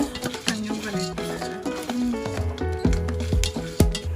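Coffee beans roasting in a pan with sugar added, crackling and stirring scrapes in irregular bursts close by, with a few sharp clinks and tonal squeaks of the pan.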